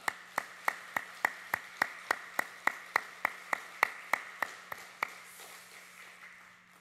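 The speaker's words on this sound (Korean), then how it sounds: "하나님 앞에 영광의 박수 올려드리겠습니다" A church congregation claps together in unison during an evening worship service, about twenty sharp, evenly spaced claps that keep a steady beat before fading away.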